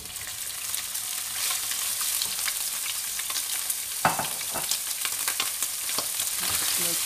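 Beef chilli ingredients fry and get mixed in a hot pan, giving a dense, continuous sizzle for several seconds with a single clattering knock partway through and no voices.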